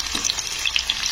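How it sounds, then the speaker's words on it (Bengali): Onions frying in hot oil in a pan while being stirred, a brief steady sizzle broken by light scraping and tapping from the spoon, close and fairly loud, with no talking. "তো পেঁয়াজগুলো দিয়ে একটু নাড়তে হবে।"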